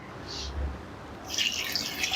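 Water pours into a wok of washed spinach, a faint low splash early on, then a steadier bright trickling stream that runs through the rest of the moment, fairly close.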